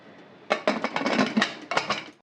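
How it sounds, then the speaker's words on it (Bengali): A metal lid is set onto a pressure cooker holding chicken curry with potatoes, giving a close run of sharp clanks and clinks that settle after about two seconds. "ঢাকনাটা দিয়ে দিতে হবে"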